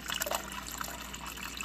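A refrigerator water dispenser runs while air is purged after a filter replacement, giving a faint, steady trickle of water with small irregular sputters.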